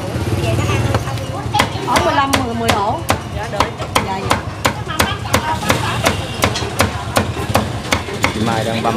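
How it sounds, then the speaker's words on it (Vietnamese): Pork is chopped rapidly with a cleaver on a board for banh mi, sharp regular thwacks repeating close by while people talk over the chopping. "đang băm thịt đó làm bánh mì đó cả nhà"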